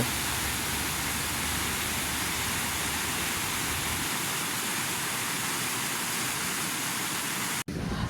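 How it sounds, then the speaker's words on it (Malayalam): A waterfall pours down beside a rock near Kollengode in Palakkad, making a constant, dense rushing hiss that holds steady and close for about eight seconds, with a brief dropout near the end. "നമ്മുടെ ആനയൊരുസാങ്കല്ലിൻ്റെ സൈഡിലൂടെ പോകുന്ന ഒരു വെള്ളച്ചാട്ടമാണിത്"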